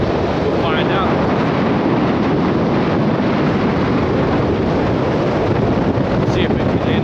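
Steady, loud wind buffeting on a GoPro Hero 10 Black microphone in a 19 mph wind, a continuous broadband rumble with no breaks.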